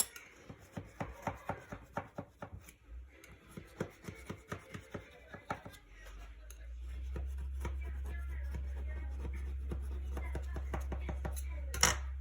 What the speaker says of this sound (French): je vais venir couper mon gâteau la taille du saladier